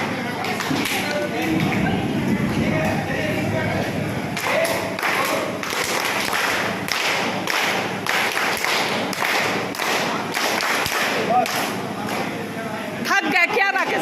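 An audience at a lively workshop session claps and cheers together in celebration of the season's first rain, a dense, sustained wash of hand claps with scattered louder taps, carrying on steadily for the full stretch.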